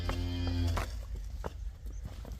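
A dairy cow at a farm selling milking cows lets out one deep, drawn-out moo near the start, then the barn settles into low background rumble and scattered faint knocks.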